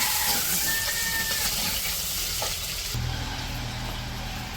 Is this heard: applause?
no